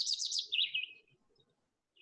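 Indigo bunting song from a Cornell Lab bird recording: a bright, fast run of high chirped notes for about a second, then faint background calls and a brief, thin note at the end.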